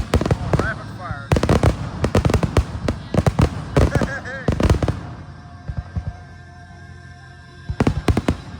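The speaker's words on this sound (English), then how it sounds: "Oh, rapid fire." Rapid-fire fireworks at a 2025 show in Hartwell, Georgia burst in fast loud volleys of cracks and booms, with pauses between clusters and people cheering and talking nearby.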